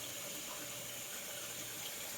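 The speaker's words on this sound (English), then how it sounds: "Add 4 cups of cold water into the pot." Cold water pours from a tap into a pot for pink tea, making a steady, soft, continuous splashing hiss. It is fairly quiet and unbroken, with no speech.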